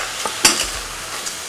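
Beef sizzles loudly in hot oil in a pan while being stirred, with a steady frying hiss and a few scraping thumps close up.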